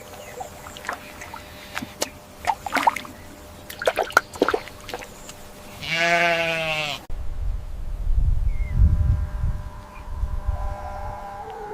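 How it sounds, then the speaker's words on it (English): A sheep gives a loud, wavering bleat with a strong harmonic quiver, preceded by scattered clicks and knocks and followed by low rumbling, muffled handling noise. "This is a sheep."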